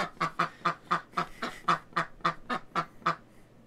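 A duck in Old School RuneScape quacking about a dozen times in a quick, even rhythm, clear and close with nothing else behind it.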